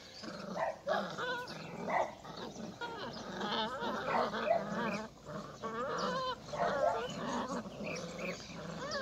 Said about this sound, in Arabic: خلينا نلعب مع الكلاب الصغيره